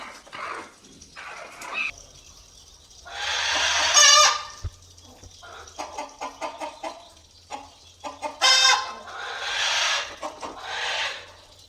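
Free-range desi village hens clucking close by in short, repeated bursts, with a few louder squawks rising between quieter clucks.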